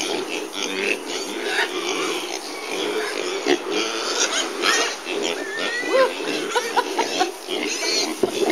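Several kunekune pigs grunting and snuffling close by on a farm, soft repeated oinks, with people talking quietly in the background.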